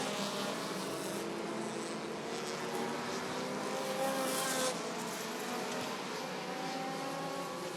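Race cars circling the Rockford Speedway oval in a Midwest Dash Series feature, a steady distant engine drone with passing whines swelling and fading, no voices over it.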